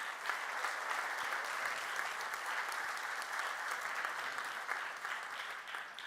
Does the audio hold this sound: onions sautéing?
no